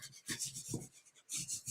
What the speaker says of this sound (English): Burnish that down a little bit.